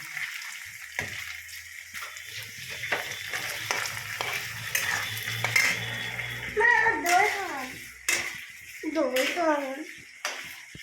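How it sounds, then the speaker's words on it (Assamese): Paneer half-frying in a pan with spices such as green chili, cloves, cardamom, cinnamon and cumin-coriander powder gives a steady close sizzle with scraping stirs, while voices, including a child's, talk over it. "গোটেইখিনি পনীৰে মই আধা ফ্ৰাই কৰি ল'ম"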